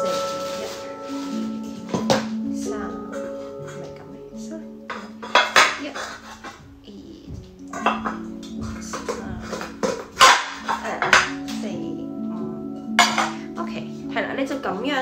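Frying pans and pots from a nesting cookware set clink and clatter sharply as they are stacked and handled, irregular metallic knocks and scrapes throughout, with intermittent talk between them.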